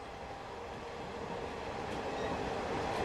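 Early-morning commuter train running steadily, a continuous broadband rumble and rail roar that grows slightly louder toward the end, with no voices.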